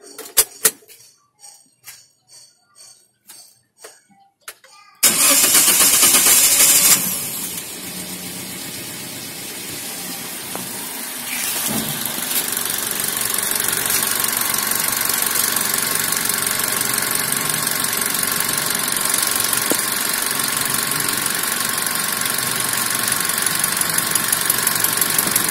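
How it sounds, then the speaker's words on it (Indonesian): A Daihatsu Sigra at 90,000 km service cranks on its starter with a few clicks, then catches and idles steadily with a loud, even mechanical hum and slight knock, close up and without speech. "Kita coba starter. Sampai hidup, Den?"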